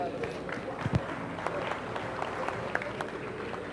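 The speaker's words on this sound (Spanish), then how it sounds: "Un aplauso, por favor" A conference audience claps after a maker education talk, a moderate, steady patter of many hands with scattered sharper claps, heard at some distance.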